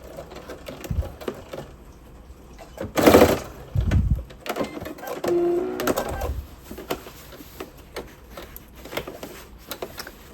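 A sewing machine runs in short bursts while back stitching a top or pleated skirt, its rapid mechanical whirring starting and stopping with small clicks and handling noises between runs, close and fairly loud.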